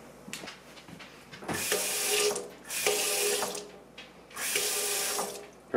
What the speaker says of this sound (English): I'll turn on the water valves again.